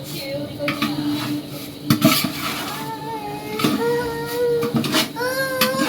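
Metal spoon scraping and clinking against a pot as biryani masala is stirred into beef and rice, with irregular close scrapes and knocks and brief louder clatters, some faint background tones underneath.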